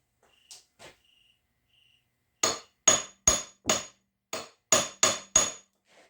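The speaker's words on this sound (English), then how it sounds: "Let's give it a little tap and see what happens." Eight sharp metallic taps of a hammer on a Case D tractor front end, evenly spaced and fairly close, preceded by a few faint ticks, with no voices.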